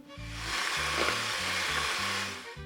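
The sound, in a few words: electric hand mixer beating sugar and eggs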